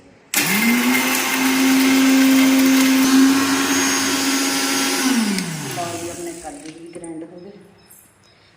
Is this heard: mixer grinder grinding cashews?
yes